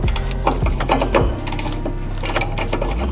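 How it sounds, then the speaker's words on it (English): Ratcheting 14 mm wrench clicking in quick bursts while loosening sway bar end links on a 1994 Toyota Celica GT, close and loud in a garage. "I'm using a T30 and a ratcheting 14 to take the sway bar lengths off"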